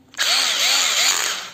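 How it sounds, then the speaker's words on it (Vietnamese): An old Hitachi cordless drill runs steadily at close range, a loud continuous motor whine with a slight cyclic wobble, starting abruptly after a brief quiet moment and holding for over a second. "Cây số 13 là một cây khoan cổ đến từ thương hiệu Hitachi các bạn."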